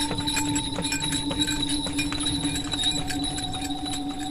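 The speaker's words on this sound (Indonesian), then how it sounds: "ia bisa mendengar suara derap langkah kuda" Steady clip-clop of horse hooves at a slow walking pace on a dirt road, set against a constant metallic hum and rattle.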